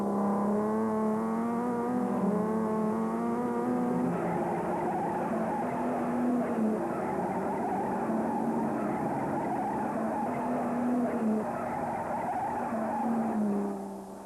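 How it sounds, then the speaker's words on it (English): Stirling Moss drifting a racing car with all four wheels sliding sideways across the road, engine note rising and falling with wavering tyre squeal, loud and close throughout, no voices. "hard on the accelerator, which then gets the car drifting. Like that. All four wheels going sideways across the road."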